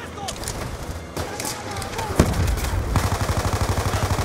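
Automatic weapons fire in the Call of Duty Black Ops 2 campaign, with scattered single shots giving way to a loud, rapid, evenly spaced burst near the end, mixed with game effects and faint chatter.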